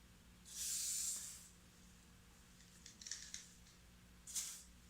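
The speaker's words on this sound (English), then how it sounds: "to clean that off, I'm just going to use some WD-40" WD-40 sprays onto a boat engine valve plunger during a MerCruiser valve job: one longer hissing burst up close, a few faint clicks, then a second short spray.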